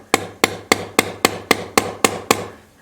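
A hammer strikes parts being set into a guitar nine times at an even, quick rhythm. The sharp wooden knocks are close and loud, there is no talking, and the blows stop cleanly.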